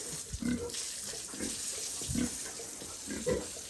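Water from a hose or tap splashes over pigs in a pen on a hot day, with a few short grunts and snorts from the animals breaking through the running water.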